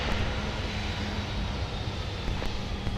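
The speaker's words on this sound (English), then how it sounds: "Listen to those Rolls-Royce BMW engines." Steady rumble and whine of Rolls-Royce BMW jet engines on an aircraft at MSP airport, a continuous mid-distance drone with a faint tonal hum and no talking.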